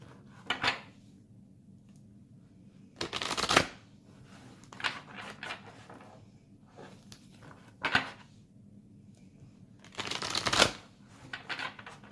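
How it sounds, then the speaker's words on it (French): Tarot cards from an archangel tarot deck being shuffled by hand, in several short riffling bursts separated by quiet pauses, close and fairly soft in a quiet room. "je vais tirer quelques cartes avec le tarot des archanges"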